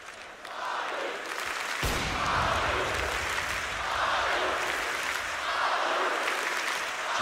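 A large arena crowd at a CS:GO grand final roars and cheers, starting quieter then swelling into sustained loud cheering and applause that rises and falls in waves.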